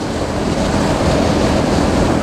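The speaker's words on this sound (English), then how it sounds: "Oh, that is windy" Strong wind roars and buffets loudly and steadily against the microphone, a constant rushing noise with no voices.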